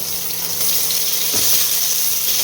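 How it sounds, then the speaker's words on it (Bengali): Potato pieces sizzle in hot mustard oil with cumin seeds, dried red chillies and bay leaf, a steady close hiss that brightens briefly partway through, with no talk. "আলুগুলো একটু ভেজে নেব, একটু ঢেকে ঢেকে ভাজবো"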